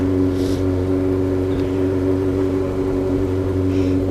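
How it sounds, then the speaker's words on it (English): A motorcycle engine drones steadily and close with a low, even hum and slight rise as the clutch is released and gas applied to pull away, no speech over it. "we're letting go of the clutch, and we're going to give it a little bit of gas"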